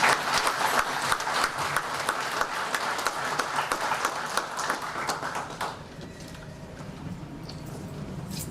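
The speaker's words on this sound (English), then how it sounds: "So our first round of applause to the guys" A conference audience gives a round of applause for the artists, dense steady clapping near and loud that thins and fades toward the end, with no talk.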